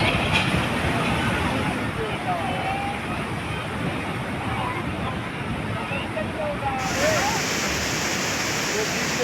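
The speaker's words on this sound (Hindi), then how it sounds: "बारिश के चलते बाणगंगा और धर्मगंगा नदी उफान पर है।" The Banganga river, swollen after heavy rain, rushes in a loud, continuous roar of churning floodwater, with a broad steady wash that never lets up and faint crowd chatter or talk mixed underneath.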